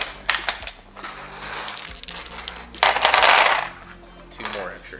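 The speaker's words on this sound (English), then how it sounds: "And I'm gonna roll 12 dice again." Twelve dice for an Age of Sigmar tabletop game are shaken with sharp clicks and then tumble across the table in a loud clattering burst near the middle before settling, all close by.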